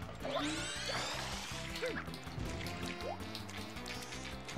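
Water refilling in Super Mario Sunshine at the magic sandcastle stage, heard as continuous dripping and sloshing liquid sounds mixed with game music and rising synthetic sweeps, steady and fairly loud throughout.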